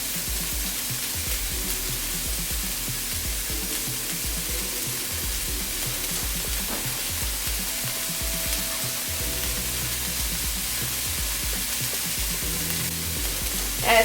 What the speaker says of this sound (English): I'll go ahead and add my onions and garlic.